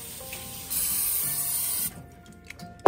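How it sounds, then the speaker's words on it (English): Non-stick cooking spray hissing from a can into a skillet set on the stove, one steady spray of about a second, close and loud, with brief clinks and handling noises after it stops. "We're going to spray some non-stick cooking spray in it."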